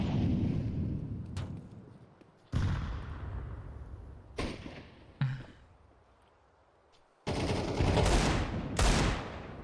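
Desert Eagle pistol shots in a shooter video game ring out in a few sharp, loud bursts separated by pauses, each with a short echoing tail, and two heavy blasts come close together near the end.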